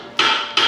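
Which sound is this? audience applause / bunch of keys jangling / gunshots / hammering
hammering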